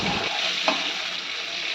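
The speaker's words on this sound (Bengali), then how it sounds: "মা এখানে আলু ভাজা করছে।" Potatoes fry in a pan with a dense, continuous sizzle close by, and one brief scrape of stirring partway through.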